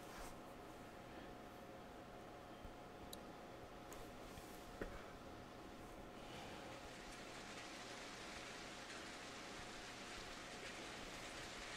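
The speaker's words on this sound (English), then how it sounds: "That looks like some nice cleansing rain." Steady, faint rain falling in The Walking Dead video game, a continuous even hiss with no distinct drops, holding at the same low level throughout with a slight brightening partway through.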